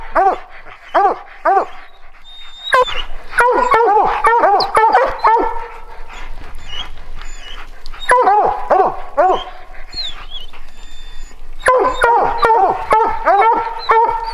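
A hunting dog on a mountain lion hunt barks, yips and whimpers in loud, close bursts with short pauses between volleys.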